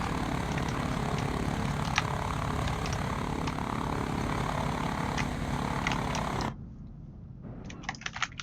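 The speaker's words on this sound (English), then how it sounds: "we're taxiing. Just gonna taxi to the runway." A propeller airplane taxis toward the runway in the BeamNG.Drive game, its steady engine drone loud and continuous before dropping abruptly to a quieter idle with light clicks near the end.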